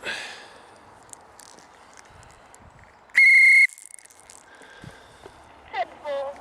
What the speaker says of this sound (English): Let's try my whistle again.